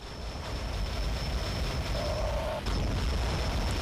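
A Big Bang weapon detonates in the underwater combat game Aquanox, a loud sustained rumbling blast with a dull boom surging near the end, steady and dense throughout with no talk.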